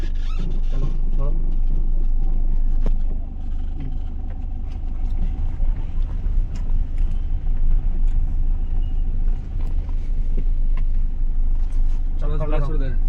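A manual car at a driving lesson rolls off as the clutch is fully released, its engine hum and low road rumble running steadily underneath while an instructor and learner talk over it.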